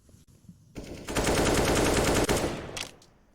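Sustained rifle fire from a Counter-Strike match at an ESL Pro League esports event: a dense, rapid burst of loud automatic shots lasting over a second, preceded by a couple of sharp single cracks and tailing off into faint clicks.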